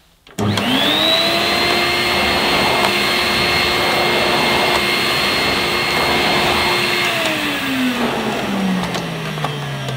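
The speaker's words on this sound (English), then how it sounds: "I wonder what it'd be like on the low setting with the floating brush." A National Capsule footstool vacuum cleaner runs on its low setting with the floating brush over carpet, starting abruptly and holding a loud, steady motor whine that drops in pitch near the end as it is pushed back and forth.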